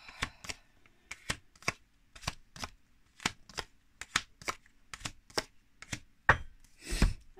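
Cards from a tarot deck being cut and shuffled, giving a quick run of crisp slapping riffles in an irregular rhythm, close and fairly quiet, ending in a louder flurry.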